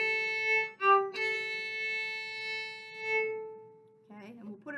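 Solo violin playing a tune in cut time at 109 beats per minute, a clear sustained bowed note held for a few seconds with brief note changes, close and moderately quiet, ending as a voice starts speaking.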